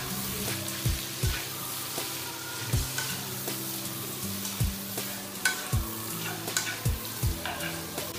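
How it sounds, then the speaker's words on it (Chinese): Pork belly, garlic, chili and cabbage stir-fried in a wok, sizzling steadily up close, with a series of clanking strokes as the spatula tosses the ingredients every second or so. "五花肉炒出油后，放入大蒜和小米椒，接着翻炒几下"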